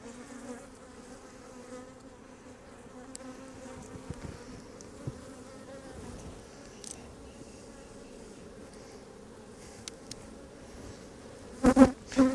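Honey bees from an aggressive hive buzz steadily in a low, droning hum close by, with occasional faint knocks and a few louder bumps near the end.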